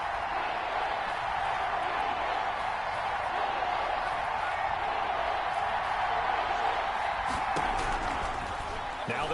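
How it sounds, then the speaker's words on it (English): A football stadium crowd at a Falcons–Steelers game builds a steady, far-off roar on a third-and-ten, a continuous wash of cheering and noise that lasts throughout. "Crowd getting in it a bit already."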